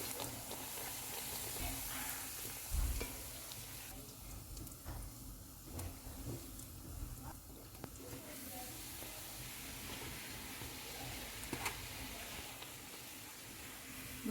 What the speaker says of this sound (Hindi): अब हम इसको फ्राई कर लेते हैं। ऑयल को मैंने गर्म होने के लिए रखा हुआ था